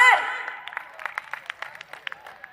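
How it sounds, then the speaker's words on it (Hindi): A voice opens, then scattered, sparse handclaps follow from an audience at a Delhi Garba Mahotsav evening in Dwarka, New Delhi. The claps are uneven and modest, tapering in strength through the rest. "अब तो ताली बजा दो यार।"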